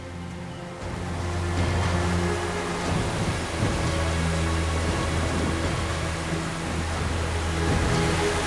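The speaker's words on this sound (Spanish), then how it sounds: "La lluvia tomó por sorpresa a este conductor." Heavy rain pours steadily onto a mountain road in the Andes of Peru, a dense continuous hiss with a low vehicle rumble beneath, no voices.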